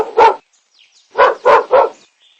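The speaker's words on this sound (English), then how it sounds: "dog" A dog barks in quick sharp bursts: one bark, a pause, then three in a tight row, loud and close with faint chirping birds in the gaps.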